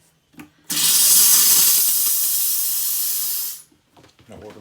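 Water from an RV sink faucet gushes in a steady, loud hissing stream for about three seconds, then cuts off abruptly, with faint clatter before and after.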